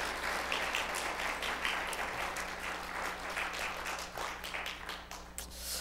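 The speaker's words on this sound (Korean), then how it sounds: "우리 서로에게 박수로 한번 수고하셨습니다." Church congregation applauding one another after a service thanks: steady, dense clapping from a sizable group in a reverberant hall, sustained at even loudness over a low background hum.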